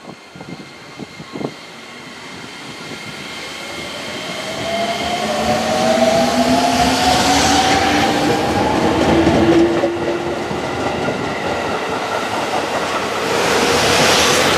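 A JR Musashino Line 205 series 5000-subseries commuter train, the Shimousa service bound for Omiya, pulls out of Yoshikawaminami station, its motors whining upward in pitch as the rumble steadily builds and the cars roll past close by.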